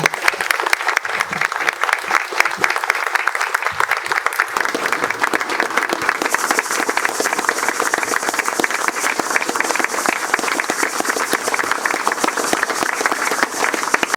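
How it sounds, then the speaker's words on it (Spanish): A large crowd gives a long, sustained round of dense applause after being asked to clap for a full minute in memory of others. The clapping is loud and continuous and keeps building in fullness the whole way through. "Un minuto de aplauso a ellos y por los que vienen"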